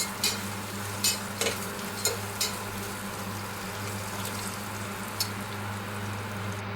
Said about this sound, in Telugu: ఉల్లిపాయలు అవి కూడా బాగా వేగిపోయినాయి అనమాట.